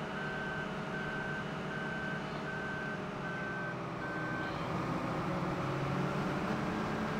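Farm vehicle backing up in Farming Simulator 2015, steady evenly spaced reversing beeps over a continuous engine drone, fading out after a few seconds.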